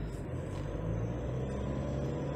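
Steady low hum and road rumble inside the cabin of a 2022 Nissan Navara Pro-4X pickup, a constant even drone with no voices.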